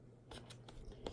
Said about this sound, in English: so I decided to take my scissors